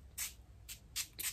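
A rose-scented facial mist bottle is pumped four times, each a short, sharp hiss of fine spray with brief pauses between, close and fairly quiet.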